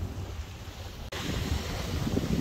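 Ocean waves wash steadily against the shore under gusting wind that buffets the microphone, a broad continuous roar with a brief dropout partway through.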